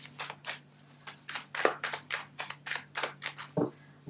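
Tarot cards are shuffled by hand in a series of crisp, rapid riffling bursts, about a dozen close, distinct strokes in an irregular rhythm with a faint steady hum underneath and no talking.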